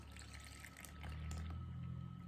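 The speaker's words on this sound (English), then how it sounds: "in the well I'm going to add this water yeast" Water-yeast mixture pouring from a container into a well of flour in a mixing bowl, a soft continuous trickle and splash that swells midway, close by, with no voices.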